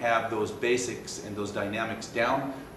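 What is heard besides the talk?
No everyday noises stand out.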